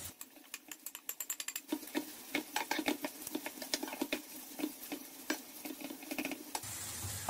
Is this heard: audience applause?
no